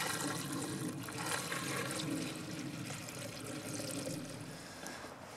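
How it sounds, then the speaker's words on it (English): Chlorinated water is dumped from a container into a well, making a continuous heavy pouring and splashing sound. It is close and holds steady throughout, with no talking. "Now, with that all mixed up, I'm going to dump it in the well."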